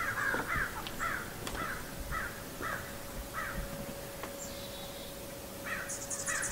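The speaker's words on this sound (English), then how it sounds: "Got some crows calling up there on the hill." Crows caw in a steady series of calls from up on a hill in a snowy backyard with bird feeders, heard at a distance over constant outdoor background noise and a faint steady hum.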